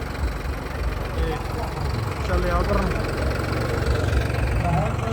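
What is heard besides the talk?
tractor engine idling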